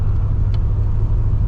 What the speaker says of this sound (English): And I can shift into third gear even at 20 miles an hour